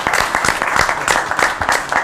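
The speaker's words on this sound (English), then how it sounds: "normally we don't let you applaud" Audience applause fills a town council chamber in Los Gatos after a unanimous vote, a dense steady patter of many hands clapping at once, fairly loud and close throughout.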